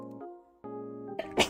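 A single sharp sneeze bursts out at the very end, following a steady tonal hum in the background.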